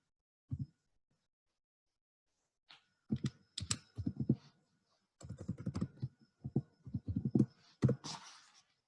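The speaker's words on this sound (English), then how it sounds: "let me type it here" Keys on a computer keyboard are tapped in short, irregular bursts of clicks separated by pauses, close and fairly clear, with no talking.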